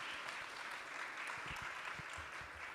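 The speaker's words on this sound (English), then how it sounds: "Please give a big applause to these great panelists." An audience at a leaders' summit on AI and digital technology claps for the panelists, a fairly faint, distant wash of applause with a few low thumps mixed in, steady throughout the short stretch.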